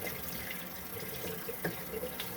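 Warm water runs steadily from a tap into a sink during makeup removal, a continuous close splashing hiss with small uneven spurts and no voices.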